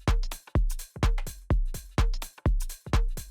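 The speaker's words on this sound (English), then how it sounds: "So now our full drum loop sounds like this." A full electronic drum loop with punchy kick, tom and percussion hits plays alone in a tight, repeating pattern, about seven bars of sharp, evenly spaced beats with no talking.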